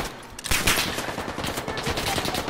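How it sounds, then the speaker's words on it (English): Rapid video-game gunfire in Call of Duty Warzone on the Caldera map, a dense stream of shots starting after a brief quiet moment and continuing steadily at close range, loud and chaotic. "Taking fire!"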